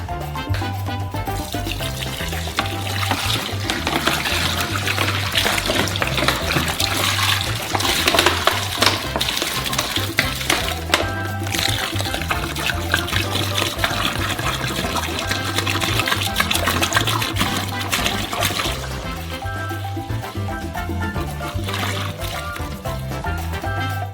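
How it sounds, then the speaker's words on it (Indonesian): Water pours steadily and continuously into a basin at close range in preparation for a giant DIY Kinder Country, a rushing, splashing flow that lasts throughout with little change. "pertama-tama tuangkan setengah air dari semua air."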